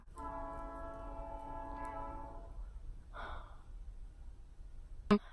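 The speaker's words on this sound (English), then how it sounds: "We're just gonna ignore the train" A train sounds its horn, a sustained chord that holds for a couple of seconds and then fades. Rail rumble continues in the background, followed by a brief sharp click near the end.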